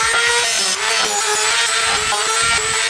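A Dremel rotary tool grinds away material from a car fender during an S13 body kit install, a close, loud, continuous whine with rasping texture across a few seconds.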